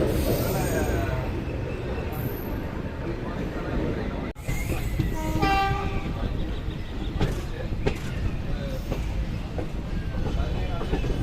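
An Erode–Tirunelveli passenger express hauled by a WAP1 electric locomotive departs Madurai Junction with a steady loud rumble, faint wheel clicks and a brief squeal.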